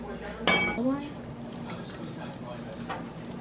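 Water is poured from a kitchen vessel into a pot of meat until it is covered, a short splashing gush followed by quieter trickling while a person keeps talking.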